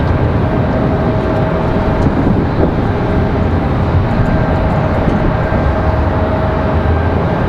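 Cessna Citation X business jet departing Raleigh-Durham, a loud, near, continuous jet roar with a thin steady whine, heard alone without speech.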